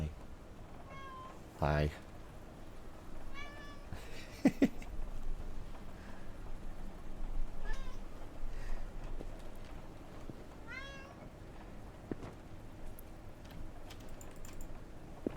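A cat meows several times in short, high, wavering calls, moderately close, while computer keys clatter intermittently in the background and a person speaks briefly.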